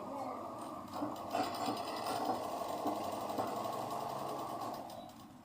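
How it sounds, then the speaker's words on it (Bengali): A sewing machine stitches a blouse in one continuous run lasting the whole stretch, steady and close, with a busy, slightly rattling tone and no voices over it. "আমি এখন বসে বসে কাজ করছি মানে ব্লাউজ তৈরি করছি মেশিন সেলাই"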